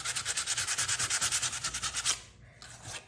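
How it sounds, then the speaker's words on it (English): Furniture being lightly sanded by hand with a small piece of sandpaper: close, rhythmic back-and-forth scratching strokes, around sixteen in quick succession, then a brief pause and a softer final rub. "just kind of going over it with this little piece of sandpaper, just gonna smooth it out to where you can't really feel it"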